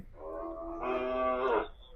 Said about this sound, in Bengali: আজকে প্রথম গরু।